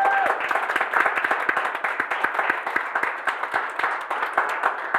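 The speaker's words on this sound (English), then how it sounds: "Round of applause for them." Applause from an audience at a live arts show, a steady patter of many hands clapping together at a moderate distance, even and sustained throughout.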